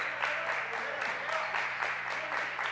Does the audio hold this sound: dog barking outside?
no